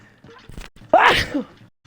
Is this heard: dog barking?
no